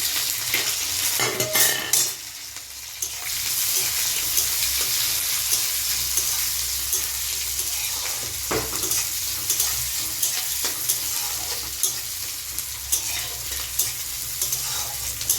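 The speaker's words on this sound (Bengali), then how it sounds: "তারপরে এইখানে কেটে রাখা পেঁয়াজ আর কাঁচা লঙ্কা কুচি দিয়ে দিচ্ছি" Chopped onion and green chili frying in a pan, a loud continuous sizzle broken by stirring scrapes and a few sharp clatters.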